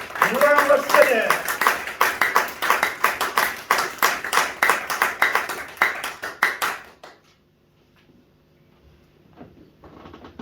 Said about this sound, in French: Est-ce qu'on peut acclamer très fort pour ce Dieu-là?